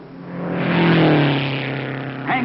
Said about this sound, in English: on the backstretch, the V8 supercharged Novi edges closer